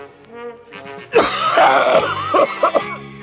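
A person coughs and clears their throat several times in a rough, raspy burst after a brief moment of quieter vocal sound, close and fairly loud.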